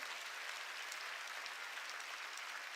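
Steady, dense applause from a church congregation, continuous and even throughout with no pauses, fairly distant and soft in level.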